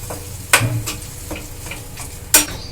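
Capsicum chop filling stirred and fried in a pan, with a steady sizzle under repeated scraping strokes of a spatula and two sharper clanks against the pan, close and fairly loud, no voices.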